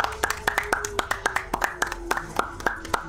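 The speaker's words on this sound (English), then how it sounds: "I think we should applaud." Hands clap in a steady, fairly quick rhythm close by, a dozen or so sharp distinct claps from one or a few people with faint talk underneath.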